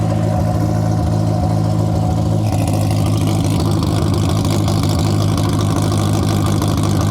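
A K24-swapped Honda mini-truck, an all-motor race build, runs loud and close, holding a steady engine drone whose pitch lifts as it revs partway through, with no talking over it.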